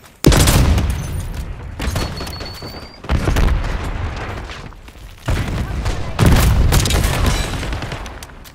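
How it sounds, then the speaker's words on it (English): Sniper gunfire in the multiplayer video game Black Ops 6: several loud, booming shots in separate bursts, each followed by a rumbling tail, close and heavy. "Enemy sniper shooting!"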